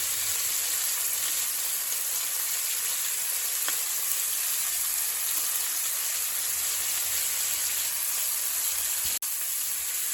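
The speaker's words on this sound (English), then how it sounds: "listen to the sizzle" Steady, soft sizzling hiss of yakisoba with cabbage greens frying in a pan continues throughout, with a faint tick partway and a brief click near the end.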